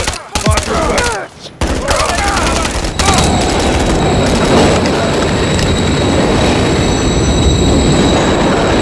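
A train roars past in the Call of Duty Modern Warfare 3 video game, a loud, continuous rumbling clatter with metallic tones, preceded by sharp bursts of gunfire in the opening seconds.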